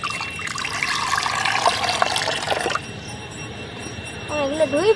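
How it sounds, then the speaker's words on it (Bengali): Water pours steadily into a bowl for washing peeled green hog plums (amra) for pickle, a loud rushing splash that stops abruptly partway through, followed by quieter room sound and a brief voice at the end. "এবারে একটা পাত্রের মধ্যে জল দিয়ে দেব"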